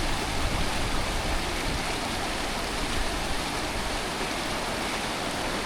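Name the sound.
river flowing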